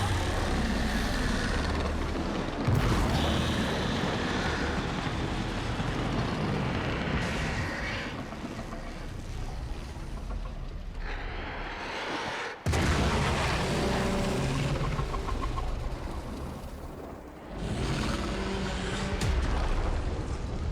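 In the video game Warframe, a large explosion sets off a sustained roaring rumble with repeated heavy booms and abrupt cuts, loud and dense across the whole stretch, with no talking.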